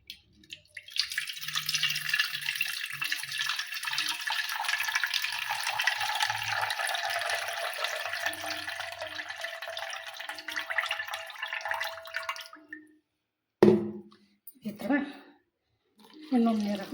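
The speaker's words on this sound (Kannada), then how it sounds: "ಈಗ ನೀರು ತೆಗಿತೀನಿ ನೋಡಿರಿ." Water runs and splashes in a steady stream for about twelve seconds as it drains from a bowl of homemade butter being washed for ghee, then someone speaks briefly.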